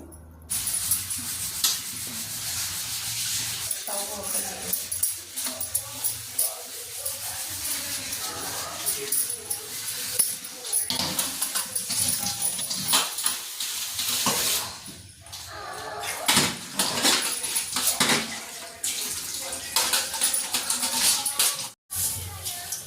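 Dishes are washed at a kitchen sink, with running water splashing and spraying, pots and utensils clattering and clinking close by, continuing steadily and loudly for over twenty seconds, while a person talks at times over the noise.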